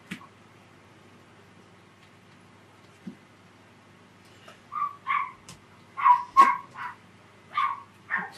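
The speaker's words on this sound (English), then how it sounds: "So somebody's dog is out there." A small yippy dog barking outside near a nature path, sharp high yaps coming in scattered bursts of one to three, moderately distant, against a quiet room.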